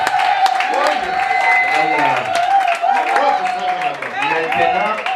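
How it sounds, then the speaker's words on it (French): A church congregation applauds and cheers loudly and continuously at a prophetic worship service, with voices shouting and singing under dense clapping throughout. "Acclamez fort pour Jésus de Nazareth"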